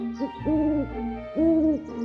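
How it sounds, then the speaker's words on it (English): An owl hoots twice, low and clear with a gap between the two calls, in an otherwise quiet setting. "the owl is hooting"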